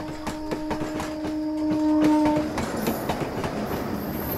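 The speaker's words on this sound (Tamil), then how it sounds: "பாசஞ்சர் ட்ரெயின் வந்துருச்சு" A passenger train rolls past on the rails with a rapid, rhythmic clickety-clack of wheels over joints and a brief sustained horn-like tone, loud and close, with no talking.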